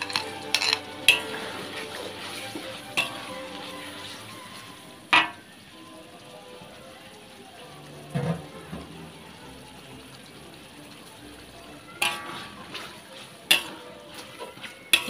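Raw beef and fish balls sizzle while they fry in chili sauce for mi goreng daging, with a steady crackle broken by sharp clanks of a utensil against the pan.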